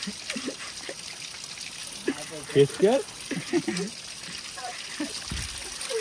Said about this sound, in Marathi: तर आम्हाला इथे आता शुद्ध पाण्याचा झरा भेटलाय. या कातलातून येतोय वरतून कुठून तरी.